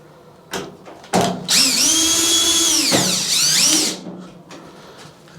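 A power drill drives screws back into a Whirlpool Duet dryer during a belt replacement: two short trigger taps, then one sustained whine that rises and falls in pitch, loud and close, then stops with some clattering.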